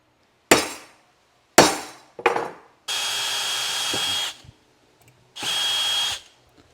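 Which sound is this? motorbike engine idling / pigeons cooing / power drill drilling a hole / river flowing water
power drill drilling a hole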